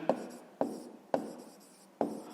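Four quick scratchy strokes of a pen on paper come at an even pace, each one sharp at the start and then fading, close and quiet with no voice over them.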